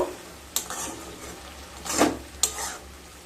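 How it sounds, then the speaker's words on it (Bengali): Fried okra is stirred into a simmering spiced yogurt curry, giving three soft, brief scraping and sloshing strokes over a quiet low background, close by and without voices. "ভেন্ডিগুলো দিয়ে মশলার সাথে খুব ভালোভাবে মিশিয়ে নেব।"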